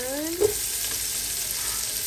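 Onion and garlic sautéing in oil for pancit Malabon, a brief steady sizzle with a short stir clatter near the start, heard up close in a home kitchen.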